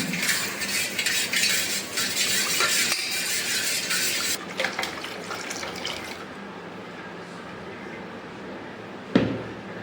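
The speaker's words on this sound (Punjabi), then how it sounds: "ਹਾਂ ਜੀ ਆਪਾਂ ਇਹਨਾਂ ਇੱਥੇ ਲੱਗੇ ਚੀਨੀ ਘੋਲਣ" A spoon stirs sugar into a vessel of water to dissolve it, giving repeated close scraping and clinking with sloshing water, busier at first then quieter, ending in a single sharp knock.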